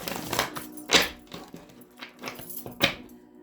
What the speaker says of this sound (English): Put some good shuffles in.